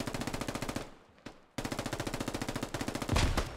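Machine-gun fire in the military shooter Squad during mechanized infantry fighting: rapid, evenly spaced bursts, a brief pause with a single sharp crack, then another long burst ending in a heavier boom. It plays at a fairly low level, with no talk.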